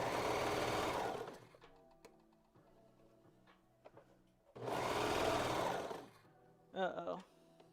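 Sewing machine fitted with a cutting knife stitching through thick fabric, two loud sustained runs of motor whir separated by a quieter pause, with a short burst near the end.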